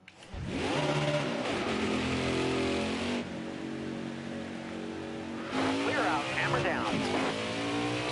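An Xfinity race car in a racing game at Las Vegas drones at high revs, its engine note rising through gear changes and then settling into a steady, loud whine near the listener.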